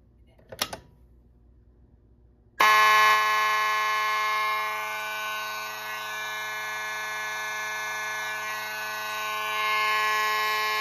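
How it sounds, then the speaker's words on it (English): A Simplex 4001 fire alarm panel's water flow alarm sounds abruptly after a brief click, then rings continuously and loudly with a steady electronic buzzing tone, no talking. "The 4G51 will be filling in for the water flow alarm"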